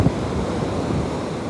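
Surf washes onto a UK beach after a storm, a continuous low roar of waves mixed with gusting wind buffeting the microphone.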